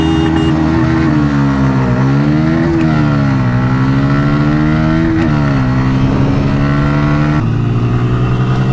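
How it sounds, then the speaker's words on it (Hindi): Bajaj Pulsar P150 and N160 motorcycles in a drag race, engines revving loud and close with rising and falling pitch through gear changes, one sustained roar dropping lower near the end. "भाई दोनों ही बाइक्स को मैंने चलाया और दोनों ही बाइक्स काफ़ी बढ़िया भागती हैं"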